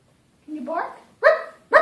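An Amazon parrot imitates a dog's bark: a drawn-out, whining opening call followed by two short, sharp barks, close and fairly loud.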